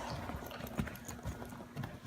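Hooves of a big-moving horse clip-clop at a steady, slow tempo during a dressage clinic, with several close, distinct footfalls over a low arena background.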